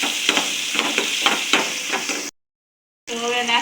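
Onions hit a hot tawa and sizzle loudly while being stirred for tawa veg pulao, a close, dense frying hiss with scraping stir strokes, briefly cut off before the sizzling resumes.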